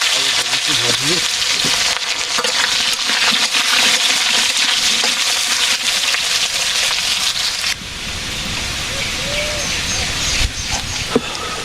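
Vegetables fry in a hot pan with a steady, broad sizzle and crackle throughout, close and loud, changing texture partway as more vegetables go in, with faint speech and other household sounds in the background.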